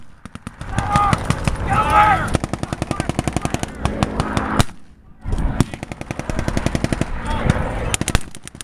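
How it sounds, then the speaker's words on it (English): Rapid bursts of heavy gunfire pound in repeated volleys at a WWII re-enactment, with a short pause between them and a deep boom from a German Pak 40 anti-tank cannon, loud and close. "That's the heavy German anti-tank cannon that just fired."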